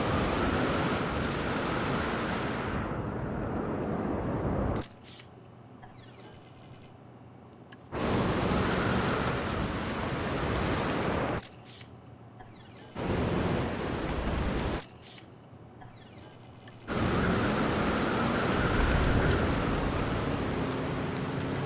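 Rain in the video game Jurassic World Evolution 2 sounds as a steady hissing downpour that cuts out and returns several times, alternating with quieter stretches of low ambient hum, with no voices.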